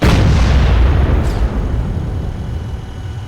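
A loud, close cannon blast from an M1128 Stryker in the ARMA 3 video game, a single heavy boom that rolls into a long, fading rumble.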